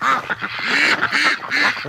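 Ducks quack loudly and close by in a quick, overlapping series of nasal calls, several birds sounding together near a water trough on a duck-breeding farm.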